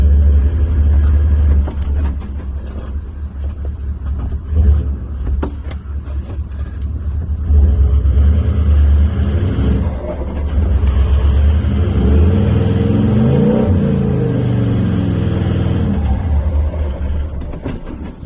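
A 4WD vehicle revs hard while climbing a steep track on Mt Pinnibar, the engine droning loud and close with rising and falling pitch as it strains for grip, alone without talk.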